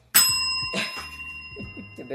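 A bright bell rings once sharply, followed by a second strike, its tone ringing on under someone speaking loudly.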